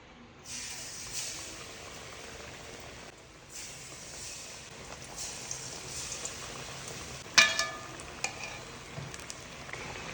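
Nendran banana fritters (pazham pori) dipped in batter and frying in oil, a steady close sizzle that holds throughout, with a few louder crackles and a utensil clink near the end.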